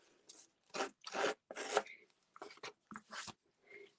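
Paper edges roughed up by hand for a distressed card-making look, heard as a handful of short, close rasping scrapes in an uneven rhythm, quiet and alone.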